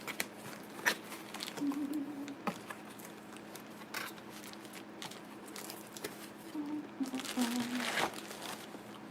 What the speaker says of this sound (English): Bubble wrap, keeping it secure.